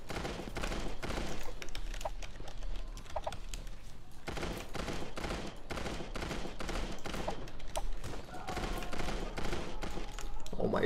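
Gunfire in the Creative Destruction shooter game: rapid sharp bursts of shots in quick succession, fairly faint and compressed, continuing steadily across the stretch with no talk.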